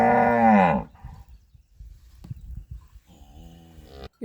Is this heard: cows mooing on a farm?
yes